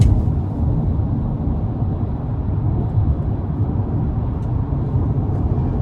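A 2022 GMC Yukon SLT's 5.3 V8 accelerates in sport mode, heard from inside the cabin as a steady, continuous low engine and road rumble with no voices.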